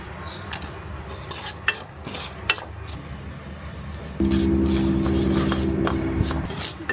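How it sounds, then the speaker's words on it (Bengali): Food sizzling in a pan while a spoon scrapes and stirs with scattered clinks; a low steady hum joins in partway through. "ভালো করে ভাজা হয়ে গেছে"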